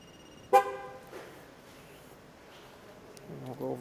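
A single short horn toot from a Ford Transit van rings out clearly, followed by quiet background noise and a faint rising hum near the end.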